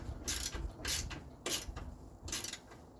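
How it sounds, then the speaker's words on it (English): A 1/4 inch ratchet tightening bolts on a Craftsman snowblower gives quiet, close clicking strokes, about four short bursts spaced roughly half a second apart over a low background. "I got a 1/4 inch ratchet and now we're going to tighten up the bolts from the bottom here"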